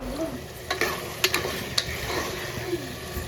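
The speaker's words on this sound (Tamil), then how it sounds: "இப்போ தக்காளி சிக்கன் எல்லாம் நல்லா வதங்கி ஒன்று கூடி வந்துருச்சு" Chicken and tomatoes sauté for a chicken kurma, giving a steady sizzle with sharp clicks and scrapes of stirring, close up and with no talk.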